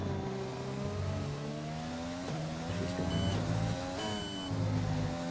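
A Formula 1 race car engine whines and revs in F1 2020 at the Hungary GP, its pitch sweeping up and down through gear changes with a second car close behind, loud and continuous without talk.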